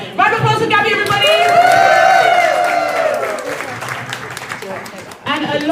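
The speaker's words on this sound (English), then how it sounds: "Round of applause for Gabby, everybody!" Applause and cheering from a live salon event audience, a sustained wash of clapping with crowd voices and chatter over it for several seconds.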